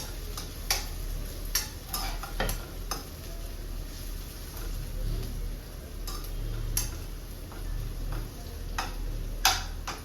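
Onion and capsicum mixture cooking in a pan, a low steady sizzle broken by repeated spatula clicks and scrapes as it is stirred.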